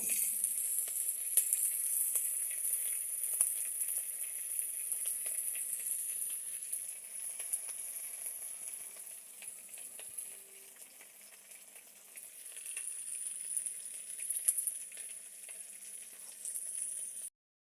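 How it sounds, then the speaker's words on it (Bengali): Taro leaves (kochu shak) cook slowly in a pan over low heat, giving a steady, soft, high sizzle that continues for the whole stretch with no talk. "কচু শাকটা ধীরে ধীরে জাল দিয়ে দিয়ে জল টানাতে হবে"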